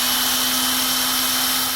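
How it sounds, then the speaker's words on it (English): A power sander sands and polishes a boat hull, a loud, constant high-pitched whine with a steady hum and no pauses for the whole brief stretch. "It'll kind of sand it down a little bit,"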